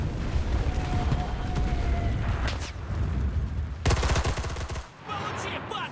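Gunfire in the World War II shooter game Enlisted: rapid bursts of automatic fire and sharp shots, loud and close, with a brief lull and a heavy burst near the end.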